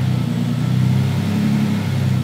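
A supercharged BMW E36 track car engine revs steadily on a dynamometer, a loud continuous droning hum with a strong low tone held throughout, no talking.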